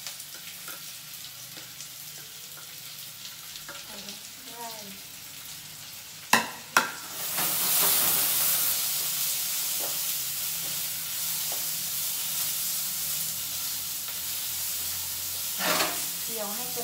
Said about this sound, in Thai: เจียวให้กระเทียมหอมๆเลยนะ